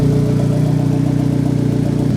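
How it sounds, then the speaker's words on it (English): A turbocharged car engine idles steadily and loudly, with an even low rumble and a slight rhythmic pulse throughout. "the motor is idling fine"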